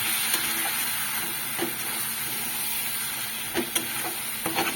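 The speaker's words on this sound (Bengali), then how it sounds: "এদিকে চিকেনের মশলা কষানো হচ্ছে" Chicken masala sautéing in a hot pan, a loud, dense, steady sizzle with intermittent scraping strokes of a stirring spatula, close up and without voices.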